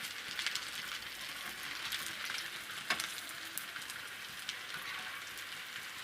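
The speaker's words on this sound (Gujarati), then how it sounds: "તેલ ઉડે નહીં એનું ધ્યાન રાખવાનું આપણે." Aloo patties sizzle steadily in hot oil, a continuous crackling fry with scattered pops and one sharper spit near the middle, close and moderately loud with no talking.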